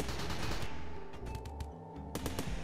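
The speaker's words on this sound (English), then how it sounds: "Let's just shoot at this pod for a minute" Colonists and a turret open fire on a pod in the Rimworld video game, a rapid burst of gunshots, some overlapping, with a short pause before more shots near the end.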